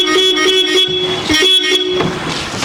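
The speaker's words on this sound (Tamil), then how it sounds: "ஹார்ன் அடிக்கணுமா?" A steady car horn sounds in repeated short honks over busy road noise, fairly close and loud.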